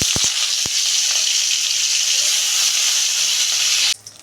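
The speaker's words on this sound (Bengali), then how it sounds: "তেল গরম হয়ে গেছে, মাথা দুটো ভেজে নিচ্ছি।" Two hilsa fish heads frying in hot oil, a loud, dense, continuous hiss and crackle close by, with a few sharp pops at the start before it cuts off abruptly near the end.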